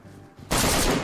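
Video game gunfire: a sudden loud blast of shots bursts in after a quieter moment and keeps roaring to the end, close and dense.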